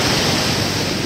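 Strong ocean waves at Isla Vista beach in Candelaria, Zambales after heavy rain, a steady loud roar of surf with wind noise, close and continuous.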